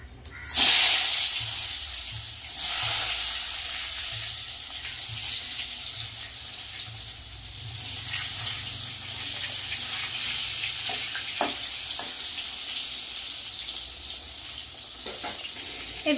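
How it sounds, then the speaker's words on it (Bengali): Brinjal fries in hot oil in a pan, making a continuous hissing sizzle that holds steady throughout, with a sharp clatter at the start. "এদিকে বেগুন ভাজা চলছে,"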